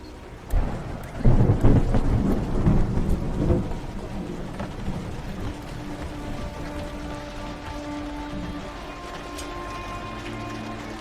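Deep rumbling thunder rolls loudly near the start, then fades into a steady patter of rain that continues to the end.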